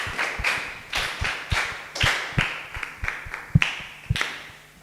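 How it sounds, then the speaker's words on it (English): A classroom group at a school maths lesson claps for a student in short irregular bursts of sharp hand claps, moderately near, with quiet pauses between the bursts and no talking. "Clap him."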